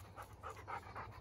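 A dog pants outdoors in the evening, several quick, soft breaths in an even rhythm, close by and fairly quiet.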